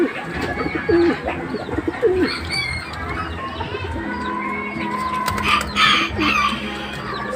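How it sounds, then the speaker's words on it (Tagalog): Fancy pigeons coo close by in a coop, overlapping bubbling calls mixed with clucking from nearby chickens and faint background chatter. "fancy pigeon."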